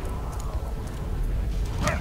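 A dog in the video game Valiant Hearts: The Great War gives a brief bark near the end over a low, steady game background.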